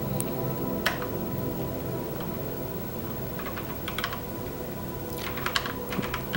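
Steady clicking of computer keys being typed on, with scattered louder key strikes over a constant low background hum.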